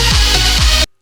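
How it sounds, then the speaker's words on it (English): A dense EDM mix with harsh, excessive highs, loud and bright with a thumping low beat underneath, lasting under a second before cutting off abruptly. "But if there's too much stuff going on in the highs,"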